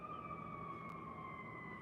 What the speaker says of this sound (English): I'm in New York, so you hear the fire engines.